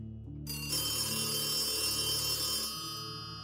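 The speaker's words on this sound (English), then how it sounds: "listening to the phone ring and ring and ring" A telephone bell rattles through a house, a harsh continuous metallic ring that starts suddenly and holds steady for about two seconds before stopping, with a hum lingering underneath.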